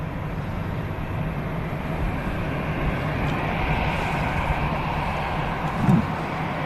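Qatar Airways Boeing 777-300ER departing Manchester for Doha, a low, steady distant engine rumble with a faint thump near the end, no voices.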